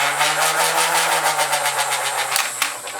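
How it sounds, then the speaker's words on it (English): A foam dart blaster whirs with a steady high-pitched hum from its flywheels, then the pusher motor kicks in and adds a rapid rhythmic chatter with a few sharp clicks near the end. "listen to the sound when I start the pusher"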